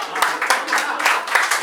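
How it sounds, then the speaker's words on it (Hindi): An audience at a Hindi poetry recital claps in a brief burst of fairly close, even clapping that rises and falls in small waves. "कुछ ताली बजा दीजिए"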